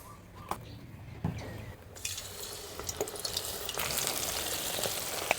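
Giant squid coated in garlic powder, salt and crispy mix fries in a pan with a steady close sizzle, broken by a few sharp clicks and scrapes of stirring, and no talking.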